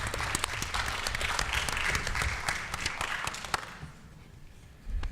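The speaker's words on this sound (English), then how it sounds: "If we can give our teachers a round of applause for their hard work." An audience at a public commission meeting gives teachers a round of applause, a dense burst of many clapping hands that fades out after about four seconds into near quiet.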